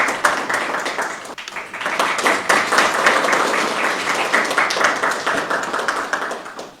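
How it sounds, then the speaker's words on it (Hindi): An audience at a university event applauds: sustained, fairly loud, dense clapping from many hands with a quick irregular rhythm, easing slightly before fading near the end. "आपकी जोरदार तालियों और वाहवाही के साथ"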